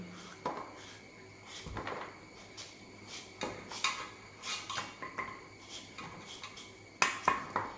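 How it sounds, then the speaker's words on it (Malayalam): Jackfruit being chopped at home: irregular knife taps and thuds against a cutting surface, with occasional metallic clinks of utensils, fairly quiet and close over a faint background hum. "ചക്ക അരിഞ്ഞെടുക്കുകയാണ്"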